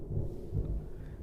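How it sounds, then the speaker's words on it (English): Thunder from a storm directly overhead makes a brief, low, muffled rumble. No rain falls yet and no one speaks. "The storm's right over me."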